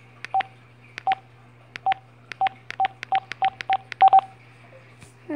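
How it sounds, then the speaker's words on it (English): Telephone keypad dialing at home, about a dozen short DTMF tones pressed at an uneven pace, clear and close over a low steady hum. "I dialed the number 7."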